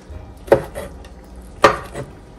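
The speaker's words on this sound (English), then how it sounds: "My shrimp, I probably cut it in three." Two sharp knife chops through shrimp on a cutting board, spaced about a second apart, each a crisp knock with a short clatter after it, close and otherwise quiet.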